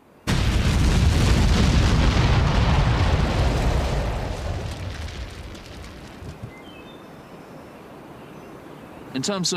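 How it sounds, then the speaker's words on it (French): Artillery shell explodes on the ground near barbed wire: a sudden loud boom that starts abruptly, then a long roaring, rumbling decay over several seconds before a fresh burst of noise at the end. "si l'artilleur avait fait exploser l'obus non pas en l'air, à quelques mètres au-dessus des barbelés, mais au moment où il aurait touché le sol"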